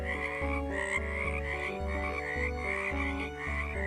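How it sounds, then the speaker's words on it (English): Frogs croak their evening calls in a steady, repeating rhythm, each croak a low, pulsing burst, close and clear with no other voices. "Frogs croaked their evening songs."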